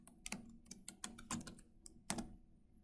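A passphrase is typed on a computer keyboard in a quick, irregular run of soft key clicks with a few sharper taps, close and quiet, with no talking.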